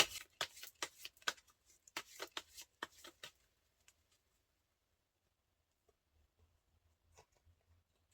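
Tarot cards are shuffled in a quick burst of crisp, close riffling snaps for about three seconds, followed by near silence with a few faint soft taps as cards are drawn.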